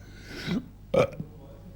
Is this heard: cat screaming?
no